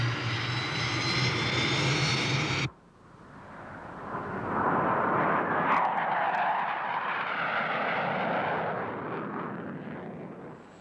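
A specially equipped NASA jet flies over the Carrizo Plain in Central California, its engine roar a broad, steady rumble that rises and swells after a brief pause following an opening stretch of music.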